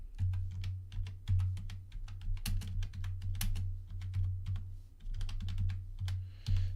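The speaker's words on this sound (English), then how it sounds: "you're hearing a bunch of typing sounds from my mic" Rapid, uneven clicking of a computer keyboard being typed on, close to a desk microphone, with a steady low electrical hum underneath.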